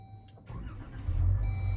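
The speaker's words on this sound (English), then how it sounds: "we started the engine now" A car engine cranking and catching, a short starter whir followed by the motor rising into a steady idle, close and clear.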